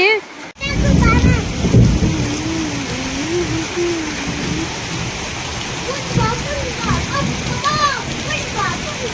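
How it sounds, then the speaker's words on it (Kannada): Steady rain patters and hisses throughout at a village temple fair, with people talking and children's voices over it. "ಮಳೆ ಮಳೆ ಬರ್ಲಿಕ್ಕತ್ತದ"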